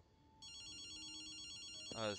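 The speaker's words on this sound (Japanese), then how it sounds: "電話だぞ" A telephone rings in the video game Ghostwire: Tokyo, a steady electronic trilling bell at moderate volume that runs for about a second and a half before a voice cuts in over it.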